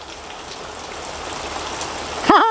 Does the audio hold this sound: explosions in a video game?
no